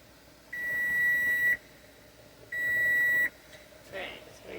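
A kitchen timer gives two long, steady electronic beeps separated by a short pause, followed by a faint clatter, while making strawberry syrup on the stove.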